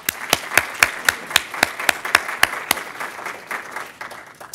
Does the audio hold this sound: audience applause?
yes